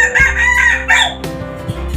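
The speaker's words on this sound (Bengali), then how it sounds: "বাড়ির ছাদের উপর এরকম খাঁচা বিশিষ্ট একটি মুরগির খামার" A rooster crows loudly and close at hand among caged chickens on a rooftop poultry farm in Dhaka, followed by a few clucks and shorter calls, with no speech.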